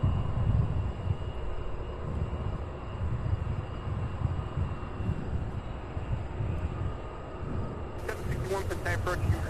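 An aircraft engine at Cincinnati's CVG airport, a steady broad roar and rumble with a faint high whine, fairly distant, running throughout, with a crackle of radio chatter coming in near the end.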